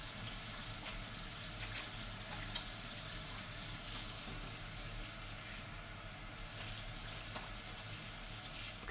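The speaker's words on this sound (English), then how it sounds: "I'm gonna wash my hands now, obviously, though." Tap water runs steadily into a sink as hands are washed during home cooking of cheeseburgers, a continuous close hiss and splash with a few soft knocks.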